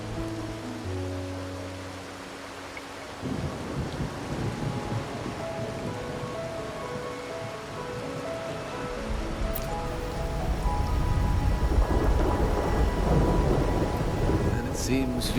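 Rainy night in the game Wuthering Waves, steady rainfall with rumbling thunder that swells louder in the second half, layered under soft background music.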